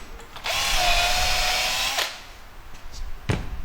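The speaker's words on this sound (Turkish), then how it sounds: "Sonra mil demir deliğini deliyoruz" A power drill bores a hole for a steel pin through a panel held in a minifix and shelf-pin jig, a steady close whine lasting about a second and a half, then stopping.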